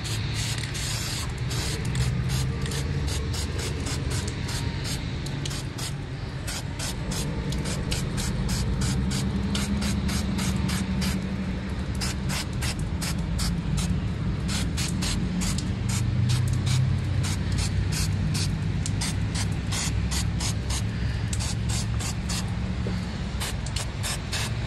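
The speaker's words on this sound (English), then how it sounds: "I'm pretty sure all of you know how spray paint works." Spray paint can hissing as paint is sprayed onto a Stay Puft Marshmallow Man toy display model, a steady close airy spray running throughout with repeated short bursts and light handling noises underneath.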